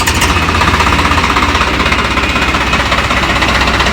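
A Swaraj 843 XM 4x4 tractor's diesel engine runs loud and close after starting, a rapid, even, hammering clatter with a steady rhythmic pulse throughout.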